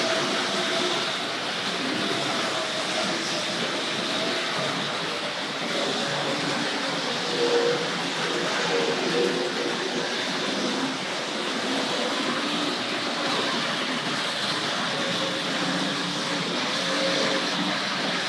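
Continuous whirring and rattling of a Tri-ang RFX Suburban electric model train in motion, a steady close rolling drone with faint clicks, nobody speaking.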